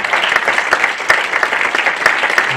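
A church congregation bursts into applause during a French-language worship service, a dense wash of clapping hands filling the room steadily for a few seconds with no voices on top.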